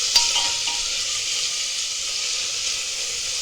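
Chopped onion fries in hot oil for a chicken curry, a steady close bright sizzle with a single stirring clink near the start and no voices.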